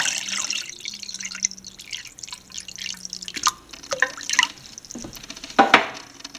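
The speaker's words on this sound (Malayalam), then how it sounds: "ആവശ്യത്തിന് വെള്ളം ഒഴിച്ചിട്ട് നമുക്ക് ഈ പൾപ്പിലോട്ട് ഒഴിക്കാം" Water is poured into mango pulp to make juice, with splashy trickles and drips that come in uneven bursts, close up and moderately loud, with a low hum in the background during the first half.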